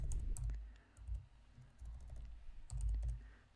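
Keys clatter on a computer keyboard in uneven bursts of several quick strokes separated by brief pauses, close and fairly quiet, with no voices.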